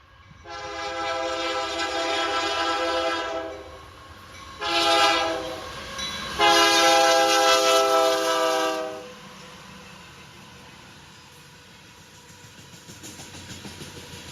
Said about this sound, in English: Same train going east, and it's meeting yet another westbound.